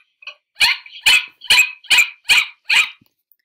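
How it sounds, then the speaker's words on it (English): A dog barks six times in a quick, even series, each bark sharp and close, with silence between them. "I hear the dog with my ear barking."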